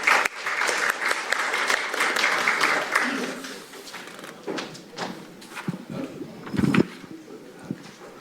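Audience at a National Assembly forum applauding a presenter, a dense burst of clapping that thins into scattered claps, with footsteps and shuffling as the applause fades.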